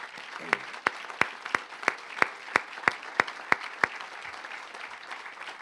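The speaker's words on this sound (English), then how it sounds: "let's give them a round of applause" An audience at a groundbreaking ceremony claps for the hospitality team, a moderate, fairly close round of applause punctuated by sharp individual claps for several seconds before tapering off.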